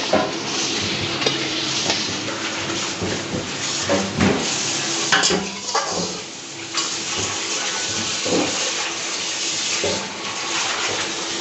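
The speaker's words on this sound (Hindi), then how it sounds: "अभी हम चिकन फ्राई कर रहे हैं" Chicken pieces fry in a pan in a hostel kitchen, a continuous close hiss and sizzle with occasional clinks and stirring scrapes.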